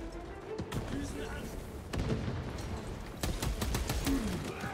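Gunfire in the video game Warhammer 40,000: Space Marine 2, with scattered sharp shots and a rapid burst of repeated bangs near the end, heard under ongoing talk.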